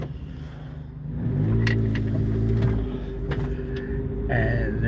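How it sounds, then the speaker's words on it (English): A tow truck and a car drive past on a road outside a store lot, their engines rumbling and building as they pass fairly close, with no talk. "We'll wait for the wrecker to go through and the car behind it."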